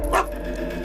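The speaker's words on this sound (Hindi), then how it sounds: "भौंक क्यों रहे हो?" A single short, sharp bark from a dog, close and loud, over a quiet indoor room tone in a Hindi-dubbed South Indian action movie.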